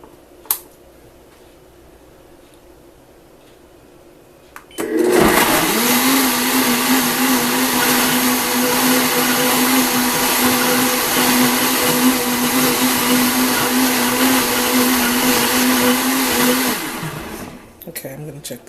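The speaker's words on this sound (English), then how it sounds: "So all of the ingredients are in the blender, and I'm going to add about a half a cup of water, and I'm going to blend." A countertop blender whirs into action on vegan mac and cheese sauce ingredients with about half a cup of water, a sudden loud steady roar with a constant motor hum lasting about twelve seconds before cutting off.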